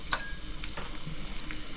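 Whole garam masala, two dried red chillies and kalo jeere sizzle in leftover fish-frying oil for a pangas fish curry, a close, steady crackle with a few light stirring knocks, no voices.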